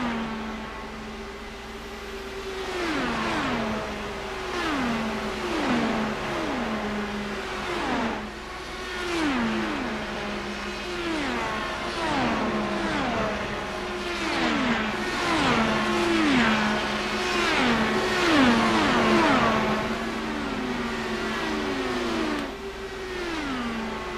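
Race cars in the iRacing simulation of the Indianapolis 500 scream past one after another, engine pitch sweeping down as each passes, in a steady stream of loud Doppler-shifted drones with no talk.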